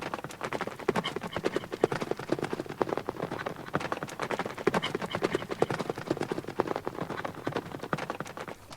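Donkey hooves clip-clop steadily at a walking pace on a road toward market, the son driving the donkey while the father rides, a brisk continuous rhythm of close, fairly loud hoofbeats with no talking over it.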